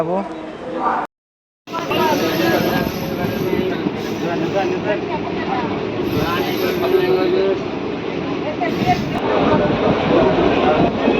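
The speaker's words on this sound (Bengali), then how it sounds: "পিনাকিনি এক্সপ্রেস ট্রেনে উঠে গেছি" A steady, heavy rumble of the Pinakini Express passenger train heard from inside the carriage, broken by a brief silence near the start, with faint voices in the background.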